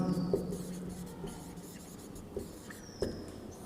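Pen scratching on paper as a mathematical proof is written out by hand, a faint steady scraping with a few soft taps, close and quiet against a low background hum.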